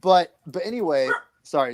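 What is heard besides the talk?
dog barking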